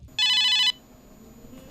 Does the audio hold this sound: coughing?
no